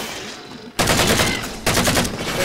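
Assault rifle fire in the video game Halo 4: two loud, rapid automatic bursts, close and dense, separated by a short gap.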